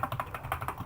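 Rapid, even keystrokes on a computer keyboard, close and distinct, forming a brief burst of typing with no talk.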